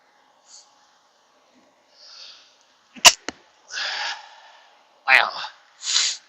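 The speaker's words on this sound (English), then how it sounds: "I've been doing a lot of sneezing here lately." Sneezing during a trucking drive from St Regis, Missoula, Montana: a few sharp, close explosive bursts and snorts separated by quiet gaps, with brief breathy sounds between them.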